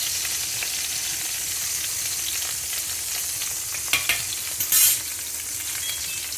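Jambalaya ingredients sizzling in a pot, a steady close frying hiss throughout, with a few brief clinks and stirring sounds near the end.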